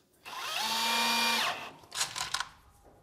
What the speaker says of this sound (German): Das wird jetzt auch mit Schrauben fixiert